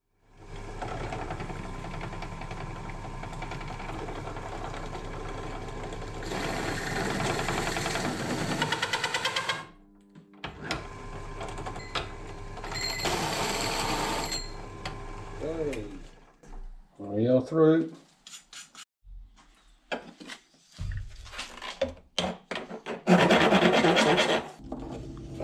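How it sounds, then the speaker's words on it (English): A hole saw on a pillar drill grinds and rasps through material, cutting a hole of about 52.5 mm for a gauge in a Toyota Starlet, in long bursts, with pauses and some clatter between cuts. "give it a punt on the pillar drill with a hole saw in it"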